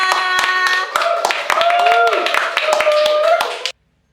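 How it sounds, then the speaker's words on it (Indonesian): An audience at a local music event claps before a band plays. Loud, uneven hand claps sound close, mixed with cheering voices and tonal sounds, then stop abruptly. "Tepuk tangan dong semuanya"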